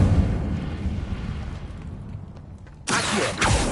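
Incendio fire spell from the video game Hogwarts Legacy: a deep rumbling blast that fades away, then a sudden loud burst of fiery whoosh near the end, with no talking.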